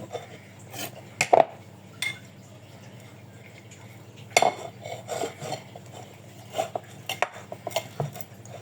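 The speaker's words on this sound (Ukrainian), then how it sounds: "Тепер я намагаюся відкріпити від тарілки сир." Cutlery scrapes and clinks against a plate while cheese is worked loose for a crab-stick salad, with sparse sharp metallic taps and scratches over a quiet background, close and intermittent.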